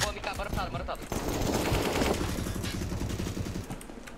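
Rapid automatic AK rifle fire from the video game CS:GO crackles in loud bursts, close and dense, with faint voices underneath.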